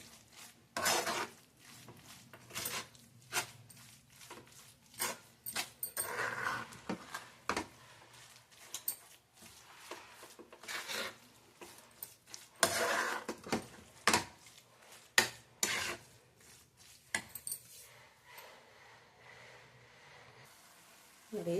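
A spoon scrapes and clatters against a pan while stirring amla laddu mixture with cardamom powder, irregular close metallic knocks and scrapes spread over the span with quiet gaps between.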